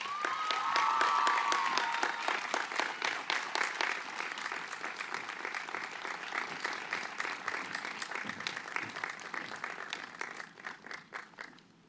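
A crowd gives sustained, dense applause at the BHS Class of 2022 high school graduation ceremony, loud and continuous for several seconds before gradually tapering off toward the end.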